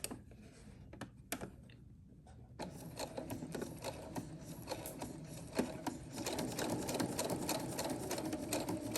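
A sewing machine stitches a zipper into a ruffle bag: a short quiet pause with a few clicks, then a steady rapid stitching rattle that grows louder and runs continuously to the end.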